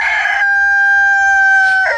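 A farm rooster crows once, loud and close, a long sustained call standing alone with no talk over it.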